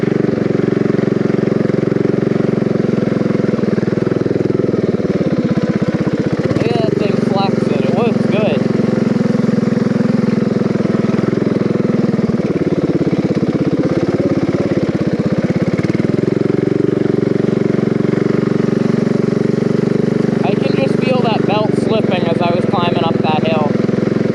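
A riding lawn mower with a new front axle and pulley setup drives across a bumpy field, its engine droning loud and steady close by throughout, with someone talking over it at times.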